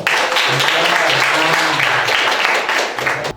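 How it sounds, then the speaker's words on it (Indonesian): Crowd applause from an audience during a lecture on pre-Islamic Medina, a dense, steady wash of many hands clapping that carries on loudly for about three seconds before trailing off slightly at the end. "Oke, kasih aplaus dulu"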